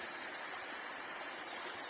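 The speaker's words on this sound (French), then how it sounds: "Mettez une source, une cascade" Water from a spring and a small cascade runs along a hiking trail near Méailles, a steady, soft broadband rush that holds constant throughout with no voices.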